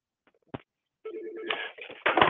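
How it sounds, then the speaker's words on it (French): An office telephone on a 3CX business phone system rings, with a short blip followed by a warbling electronic ring pattern in bursts, fairly close and clear with no talk over it. "Hop, ça sonne sur son téléphone."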